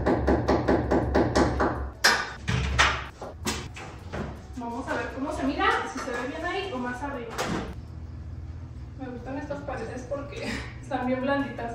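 A rapid series of hammer strikes at the start, then a few heavier knocks, followed by a person talking over occasional taps.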